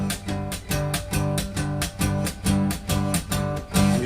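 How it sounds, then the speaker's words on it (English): Slow, even strumming of low guitar strings in steady eighth-note upstrokes with the thumbnail, about two per second, bright and close. "doing upstrokes with my thumb with eighth notes"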